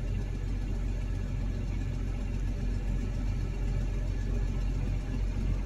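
A New Holland T7040 tractor pulls under throttle while slurry spreading with an umbilical system, its engine a steady, dense low rumble that stays constant throughout, heard from inside or near the cab, with no speech.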